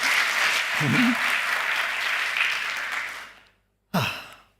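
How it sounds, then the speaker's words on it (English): Conference attendees at a tech talk on stream processing give a round of applause, a broad, steady clatter that fades out and cuts to silence before a single spoken word. "Can we get another round of applause for Karen?"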